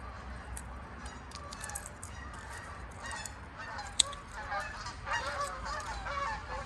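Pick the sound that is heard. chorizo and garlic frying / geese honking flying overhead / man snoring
geese honking flying overhead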